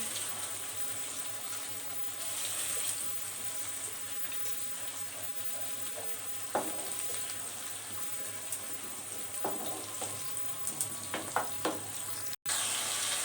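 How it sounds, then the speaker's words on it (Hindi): Garlic and ginger paste frying in a pan for a chicken and bottle gourd curry, giving a steady close sizzle with occasional stirring clatters and small spatters, and no speech. "जी लहसुन अदरक को हमने अच्छे तरीके से इसमें भूनना है।"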